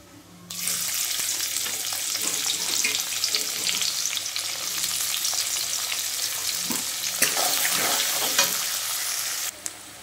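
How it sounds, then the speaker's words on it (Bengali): Onions sizzle and crackle steadily in hot oil in a wok with bay leaves and whole garam masala, a dense continuous fry with occasional stirring scrapes, close and loud, no talking. "পেঁয়াজ ভাজা হয়ে গেছে।"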